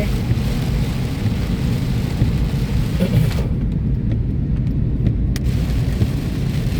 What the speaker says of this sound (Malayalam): ഇപ്പതാ ഭയങ്കരമായിട്ട് മഴ പെയ്യണേ. റോഡൊന്നും കാണുന്നില്ല, അങ്ങനത്തെ മഴ.